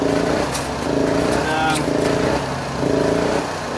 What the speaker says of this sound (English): just letting the gen run out of fuel now